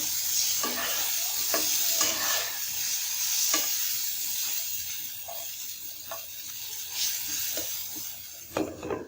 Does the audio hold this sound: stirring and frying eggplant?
yes